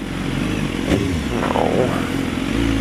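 BMW S1000RR HP4 superbike engine running steadily on the road, a continuous loud rumble with a brief rise in revs and some clattering, no voices over it.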